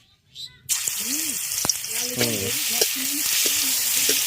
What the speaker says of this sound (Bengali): এবার এর মধ্যে দিয়ে দেবো থেতো করে নেওয়া রসুন